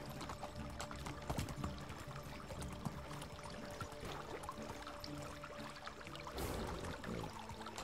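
Creek water flowing steadily in the video game Medieval Dynasty, a continuous close rushing and trickling wash with a brief louder surge near the end; no talk.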